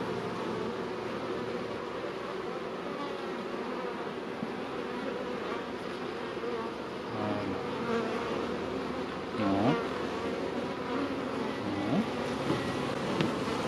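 Bees from a collected swarm buzz steadily around their hive, a dense, continuous hum with individual insects droning close by now and then.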